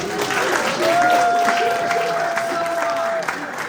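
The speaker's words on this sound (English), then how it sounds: "We definitely want to give Tina Marie Russell another round of applause." Audience applause for Tina Marie Russell at a meet-and-greet for 2025 judge candidates, a steady wash of clapping with a sustained whistle-like tone running through the middle.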